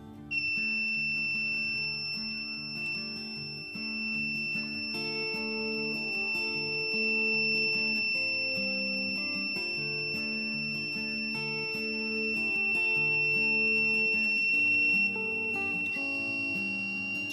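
A small electronic buzzer on a DIY circuit, powered at 3.1 volts, gives a loud, steady, piercing high tone. It holds without a break for the whole stretch, while a faint tuneful background of sustained notes plays underneath.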